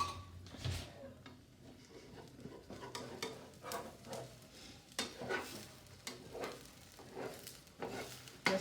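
Egg for egg fried rice is pushed around a hot frying pan, a soft sizzle underneath repeated spatula scrapes and taps against the pan, coming in an uneven rhythm about once a second, close and fairly quiet.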